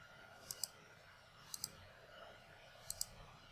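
A mouse clicking through menus in Vivotek VAST surveillance software: three crisp pairs of clicks, close and clear against a quiet, hissy background.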